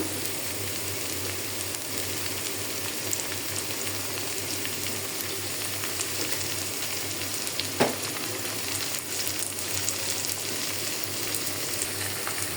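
Onion, potato and garlic paste fry in oil for an eel fish curry, a steady close sizzle that runs unbroken for the whole stretch, with one sharp clack of a utensil partway through and no talk.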